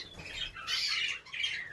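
Caged birds squawk repeatedly in a room set up for disinfecting the cages and birds, with harsh, overlapping calls continuing steadily and fairly close.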